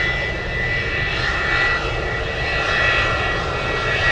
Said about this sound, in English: That's an unrestricted climb on LA flights out of Elmendorf. F-22s surprising us again.